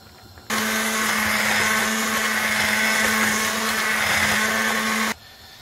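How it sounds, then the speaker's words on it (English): A handheld stick blender runs steadily for about five seconds, pureeing boiled lentils for tarka dal into a smooth paste, its motor whine loud and close, starting and stopping abruptly, with no talk. "I'm going to blend this into a smooth paste while it's cooking."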